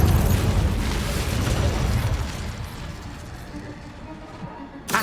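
A fiery spell cast in Hogwarts Legacy bursts with a heavy, rumbling whoosh that starts loud and slowly fades over several seconds, ending with a short sharp crackle.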